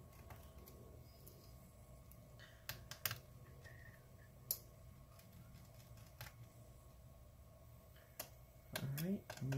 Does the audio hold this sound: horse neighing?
no